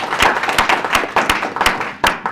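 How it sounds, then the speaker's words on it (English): An audience at a financial inclusion Q&A panel gives a round of applause for the speakers, a close, crisp burst of many overlapping hand claps that carries on steadily. "So just a round of applause for all our speakers and Maria."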